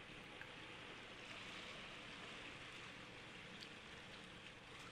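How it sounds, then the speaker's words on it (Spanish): Ocean waves wash steadily onto a beach in the video game Persona 4 Golden, a soft, continuous surf hiss at low volume with no talking over it. "El único sonido que oyes es el golpear de las olas con la playa."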